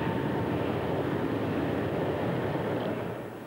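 A BAC One-Eleven airliner dives at its maximum permissible rate, heard from inside as a loud, steady broadband roar of engine and airflow that stays constant before tapering off slightly at the end.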